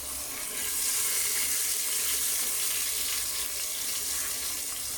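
A continuous stream of boiled water pours steadily into a pot with a rushing, hissing tone, holding even from start to finish.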